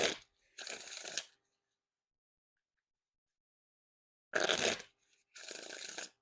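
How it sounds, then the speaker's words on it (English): Two bursts of riffle shuffling a deck of Art of Play Seekers playing cards, each a quick crisp flutter followed by a short bridge riffle, separated by a few seconds of silence. "And now time for the Riffle Shuffle or Bridge Shuffle."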